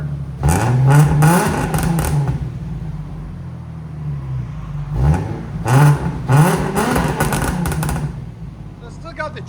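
Revving of a 2007 Infiniti G37 fitted with a Z1 Motorsports cat-back exhaust: loud, close throttle blips rising and falling in two clusters of sharp revs separated by a quieter idle stretch.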